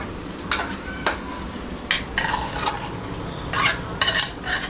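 Vegetables for pav bhaji being mashed and stirred in a pan, with irregular soft thuds and scraping bursts of a masher against the metal over a quiet background.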